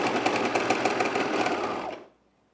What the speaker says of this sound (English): Yeah, it's a regular sewing machine that she got.